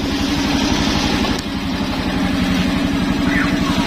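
A Suzuki Skydrive scooter engine idles steadily with its battery disconnected, running on a Mio regulator, in a close, loud and even putter with no talking.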